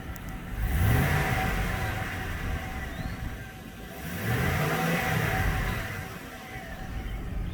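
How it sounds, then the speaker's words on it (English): A dealer-maintained Chevy Silverado regular cab short bed 4x4 pickup with about 163,000 miles runs close by, its engine rumbling steadily and swelling through two distinct revs, with no one talking. "And man, listen to that truck."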